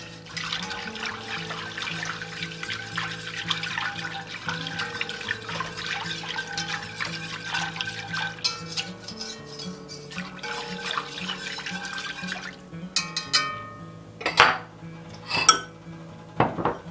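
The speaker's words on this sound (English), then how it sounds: "Whisk that together real quick" A whisk beats flour into two cups of beef broth in a pot, giving a steady run of quick metallic clinks and scrapes, close and moderately loud, ending in a few sharper knocks against the rim.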